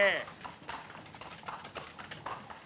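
Horse hooves clip-clop in a steady trotting rhythm as a horse pulls a cart, close and moderately loud, with a brief voice at the start.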